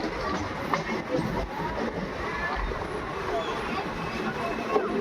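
A train rolls into Mathura Junction railway station, heard from inside the carriage as a steady rumble with faint rhythmic clatter and background station noise throughout.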